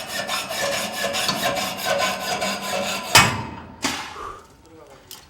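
A hand saw cuts through a bolt on an antenna tower, rasping in a steady back-and-forth rhythm of strokes, close and loud, then breaking off into a couple of sharp metallic knocks as the cut finishes.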